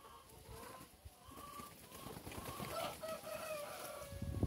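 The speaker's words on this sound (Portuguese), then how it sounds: "Olha lá, lá tá as galinhas." Free-range Isa Brown chickens out on grass, a flock clucking with a rooster-like crow rising through it, moderately distant over steady outdoor background noise.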